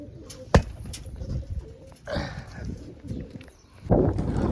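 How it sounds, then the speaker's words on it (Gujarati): Pigeons coo softly and then flutter off with a sudden burst of wingbeats, followed by rustling and more flapping near the end, with no speech over the birds. "કબૂતર આપણે ઉડી જાય."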